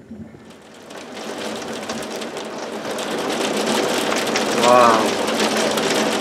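Steady rain hisses and patters over a lake during a storm, building gradually to a heavier pour; a voice briefly exclaims near the end.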